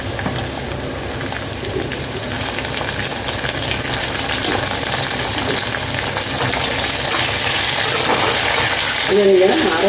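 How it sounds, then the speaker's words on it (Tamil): Sambar onions sautéing in a pan, a loud, continuous close sizzle with occasional stirring scrapes and clatter throughout, without speech. "இப்போ பார்த்தீங்கன்னா வெங்காயம் வதங்கியாச்சு"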